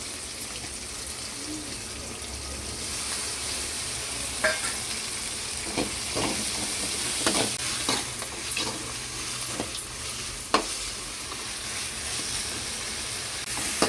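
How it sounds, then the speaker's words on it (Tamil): Onions and tomatoes sauté in a pan for a jackfruit seed curry, giving a steady close sizzle broken by occasional scraping stir strokes and a few sharper clinks. "பார்த்தீங்கன்னா வெங்காயம் தக்காளிலாம் நல்லா வதங்கிருச்சு"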